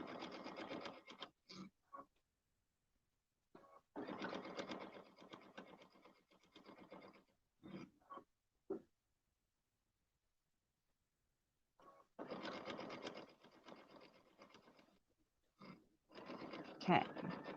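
A home sewing machine back-stitching the seam of a fabric sleepover cinch sack, running in bursts of a few seconds with pauses and short taps between, fairly quiet and close.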